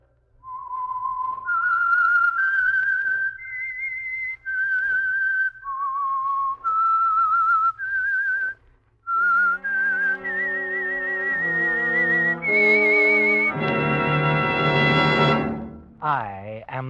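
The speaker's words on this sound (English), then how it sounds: "That whistle is your signal for the Signal Oil Program" The whistled theme tune of the 1948 radio drama The Whistler: a lone, clear melodic whistle rises and falls in sustained notes, then gives way to swelling orchestral chords.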